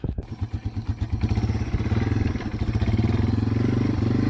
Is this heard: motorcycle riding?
yes